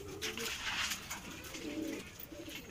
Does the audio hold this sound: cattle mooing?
no